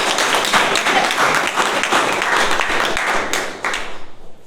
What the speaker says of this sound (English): Can we have a round of applause for the tag team?